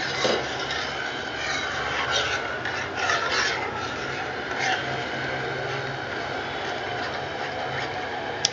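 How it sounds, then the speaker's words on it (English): A spoon steadily scrapes and rubs through thickening besan curry (pithla) in a pan, a continuous close rasping texture with faint sizzling beneath. "Keep stirring so that it doesn't get burnt in the bottom."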